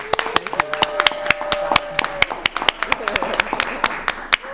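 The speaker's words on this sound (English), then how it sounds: "All right, another round of applause." A round of applause at an accelerator final presentation event, made up of a few distinct nearby claps in a loose, uneven rhythm, with voices talking underneath.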